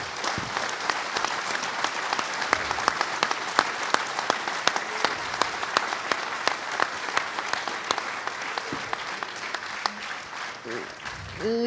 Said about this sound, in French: on s'applaudit tous ensemble, s'il vous plaît